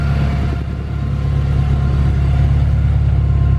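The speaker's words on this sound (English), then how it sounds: "The exhaust sounds absolutely insane." Honda S2000 with a Kraftwerks setup, its exhaust droning in a deep, loud, steady rumble as the car makes a run up the street, with a brief dip before the note holds strong.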